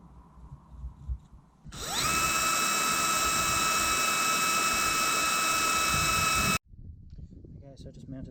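A high-pitched power tool whirs up and runs steadily for about five seconds, loud and close, while fitting a bracket on a Yamaha XV750 motorcycle, then stops abruptly, with some talk and handling noise before and after.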